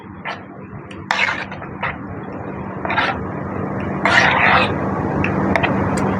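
Henna powder mixed with egg white is stirred in a bowl, producing intermittent scraping and clinking strokes of a utensil against the bowl over a steady background hum.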